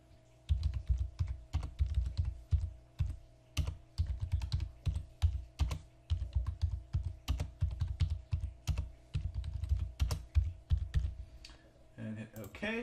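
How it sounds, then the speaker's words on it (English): A computer keyboard being typed on close up, with steady clusters of crisp keystrokes clattering in an even rhythm for several seconds before a few final clicks. "We're going to have to type in that encrypted passcode that we had before."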